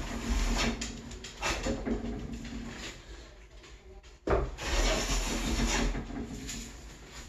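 A hand plane works across a seam on a small wooden countertop, giving repeated close scraping strokes with short pauses between passes.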